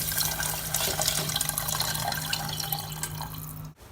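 Water poured steadily into a rosemary and lemon juice brine, a continuous close splashing and trickling stream that runs for about four seconds and cuts off abruptly at the end.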